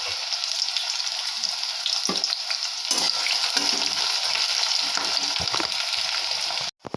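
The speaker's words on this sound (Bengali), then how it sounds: "এই পেঁয়াজগুলো আমি একটু ভেজে নেব লাল করে" Sliced onions sizzle in hot oil in a pan for a thin mutton curry, with a steady, dense frying hiss and occasional stirring scrapes that run unbroken for several seconds before cutting off near the end. No one speaks.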